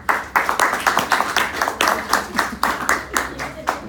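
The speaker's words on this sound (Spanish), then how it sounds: "Un aplauso para el fuerte" An audience claps in a steady, fairly sparse rhythm of distinct claps, close and moderately loud, at a medical lecture on ostomy techniques; some voices may mix faintly underneath.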